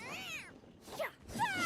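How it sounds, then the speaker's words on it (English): Kirara, a cat character in the video game Genshin Impact, gives a few short high meows in quick succession, clear and close against near silence. "She keeps making cat sounds."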